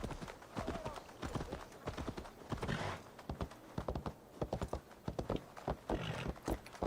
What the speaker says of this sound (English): this is the fastest the horse can go